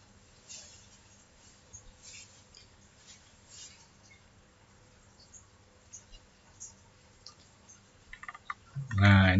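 Faint, close computer mouse clicks sound sporadically in a quiet room, a few isolated taps spread out, before a louder burst of voice-like sound at the very end.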